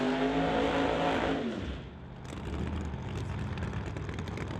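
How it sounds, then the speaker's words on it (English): A 1957 Chevy Bel Air drag car nicknamed Black Betty revving hard after its burnout, a loud, high engine wail that drops off abruptly, followed by a rougher, lower idling rumble at the strip. "getting ready to back that 57 Bel Air up from the burnout"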